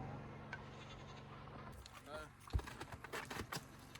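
Goats on an off-grid homestead bleat in short calls, with a handful of brief cries close by, mixed with rustling and handling noise, and a voice is heard.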